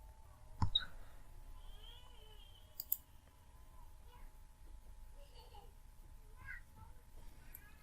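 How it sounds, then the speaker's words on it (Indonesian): A single sharp mouse click on a login button in Moodle, quiet and close, followed by a faint second click amid a soft background hum and distant voices. "untuk login, klik di tombol login di sini"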